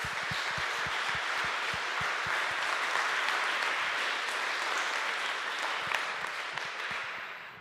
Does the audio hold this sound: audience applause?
yes